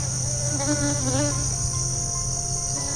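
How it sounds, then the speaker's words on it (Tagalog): A bee buzzes steadily and close, a continuous insect drone with wavering pitch that holds for a few seconds over a constant high background hum. "So merong bubuyog para makagat tayo."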